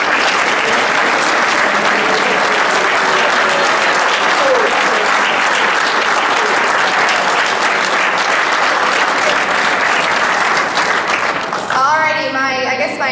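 A crowd applauds steadily for several seconds at a youth fitness camp closing ceremony, a dense continuous clapping that breaks up near the end.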